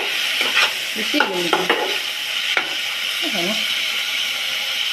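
Hakka noodles are tossed with sauce in a pan, a continuous sizzle with rhythmic scraping strokes of the spoon, while someone talks intermittently over the cooking.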